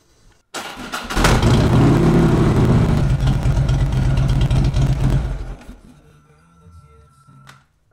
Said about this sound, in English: we're gonna fire this bike up and let it run for 4 minutes